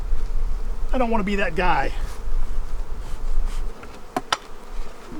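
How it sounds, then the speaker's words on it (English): Honey bees buzz steadily and up close at an opened beehive during a honey super inspection, a constant drone that continues under a man's brief speech and some sharp handling knocks. "lots of bees"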